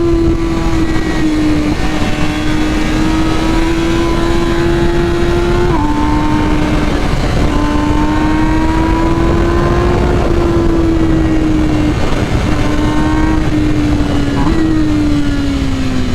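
A 2021 MV Agusta Rush motorcycle, flash-tuned by BT Moto, pulls hard at high speed with a loud, close, continuous engine wail that climbs steadily in pitch, broken by a few quick gear shifts.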